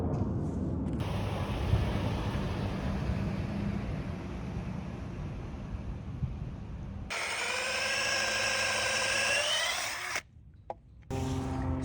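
Power drill boring through wood while framing stairs, a long steady grinding whir that shifts to a higher whining pitch late on, then cuts off with brief pauses near the end.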